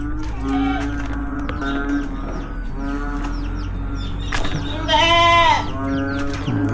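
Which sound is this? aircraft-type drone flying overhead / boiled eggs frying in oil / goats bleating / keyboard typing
goats bleating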